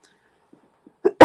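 A person on a podcast coughs once, a short sharp close cough at the very end after a few faint throat noises, loud against near silence.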